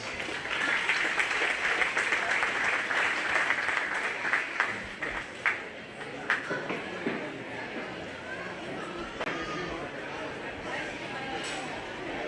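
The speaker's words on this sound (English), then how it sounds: "let's give that first class a nice round of applause" Applause from a county fair crowd greeting the first show class: a dense wash of clapping that holds for several seconds, then thins into scattered claps with voices murmuring beneath.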